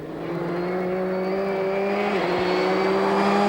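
A Ford Focus rally car at speed on a stage of Rally Finland 1999, its engine holding a strong, sustained tone that rises gradually, with a quick gear-change dip partway through, loud and close with no voices.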